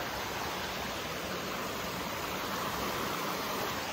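A swollen river rushes through a weir after heavy rain. The water makes a steady, loud, close roar with no voices.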